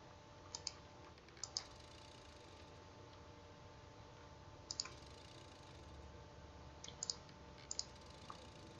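Light, crisp computer mouse clicks during play of The Franz Kafka Videogame, quiet and isolated, arriving in small pairs and clusters spaced irregularly over a faint steady background hum.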